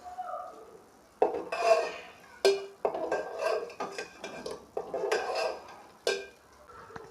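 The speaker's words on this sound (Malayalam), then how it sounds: "ചേർത്ത് നന്നായിട്ട് തന്നെ മിക്സ് ചെയ്ത് കൊടുക്കാം കേട്ടോ" A spoon clatters and scrapes around a pot while ingredients are mixed into a healthy Karnataka-style drink, with sharp metallic knocks and stirring bursts separated by short quiet gaps.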